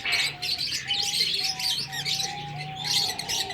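Pigeons kept as pets, heard up close in a series of soft, high chirps and tweets with a low, faint cooing beneath, repeating irregularly over a few seconds.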